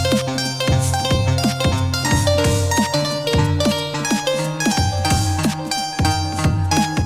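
A MIDI guitar melody plays with short gaps between phrases, notes stepping along steadily over sustained lower tones, clear and upfront with no talking.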